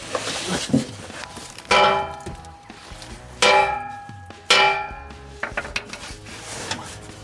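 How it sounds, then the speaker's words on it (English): A hammer strikes a rusted exhaust muffler on a PT Cruiser GT with a few sharp, ringing blows spaced a second or two apart, followed by lighter taps and scraping. "Tapping with the hammer and it'll probably come loose"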